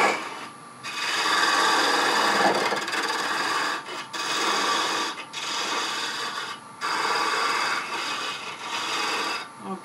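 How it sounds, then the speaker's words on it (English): Lathe tool cutting a tenon in spinning wood for a turned mushroom, with repeated close, loud rasping passes separated by short pauses as the tool comes off and goes back in. "Drop the handle for a tenon cut. Take another cut next to it so it doesn't bind."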